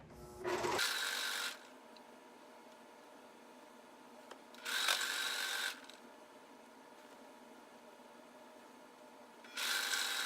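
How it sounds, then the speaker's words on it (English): A sewing machine runs a straight seam on a skirt in three separate bursts, each about a second long, with quiet pauses between them. "And then you can sew that straight line."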